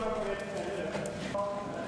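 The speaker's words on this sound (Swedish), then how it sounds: "Och nu så bara vi avslutar med att rida över bommarna på 6 galoppsprång." Horse cantering over ground poles during a jumping and dressage training session, hoofbeats faint and steady under continuous talk in Swedish.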